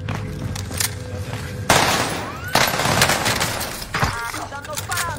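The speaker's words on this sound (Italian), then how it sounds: "Stanno sparando." Video game gunfire crackles in rapid bursts, with sharp automatic volleys and a few louder cracks, under a busy mix of in-game effects.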